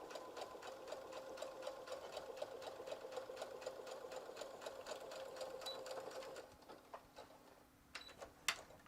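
A sewing machine stitches a fabric mask in a fast, even run of needle clicks for about six seconds, then stops, followed by a few softer clicks and a sharp tap near the end.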